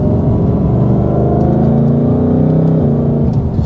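An 850-horsepower Hennessey Super Venom H850 Dark Horse drones loud and close under light throttle in sport mode with manual shifting. The engine note holds a steady, building tone and nobody talks over it.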